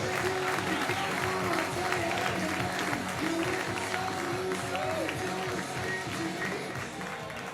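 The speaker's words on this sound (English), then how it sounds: "Let's start clapping right now" Steady comedy club audience applause and cheering fill the room at an even, loud level, with voices mixed into the crowd noise throughout.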